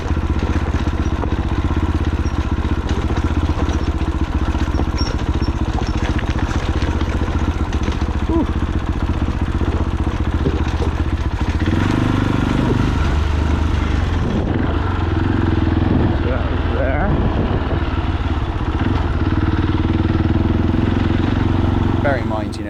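A trail motorcycle of scrambler style, a light trails bike rather than a dual sport, runs steadily throughout on a loose Cornish trail, its engine a continuous mid-pitched drone close by, with talk over it.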